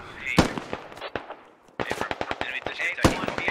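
A DShK heavy machine gun fires in the SquadOps video game as sharp repeated bursts of loud gunfire, some shots close and others spaced irregularly, with a voice speaking over it.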